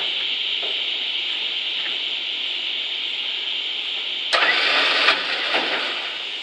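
A car engine cranks and catches after a steady mechanical hum, a burst of starter noise rising near the end, close and alone with no talk.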